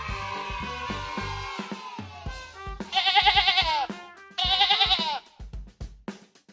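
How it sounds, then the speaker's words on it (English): Two clear, wavering sheep bleats come in quick succession, set within a bright children's animal-learning song with musical tones around them. "Sheep."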